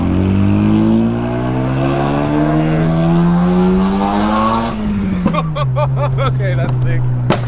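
A loud straight-piped rotary engine in a Mazda FD RX-7 drones and climbs in pitch under acceleration, then drops back to a rough idle with crackles and pops from the exhaust.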